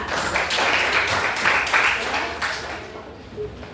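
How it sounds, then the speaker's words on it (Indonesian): A class of schoolchildren claps together in quick bursts, a bit uneven, with voices chattering over the clapping in a lively classroom. "Tepuk tangan dulu Pak semua."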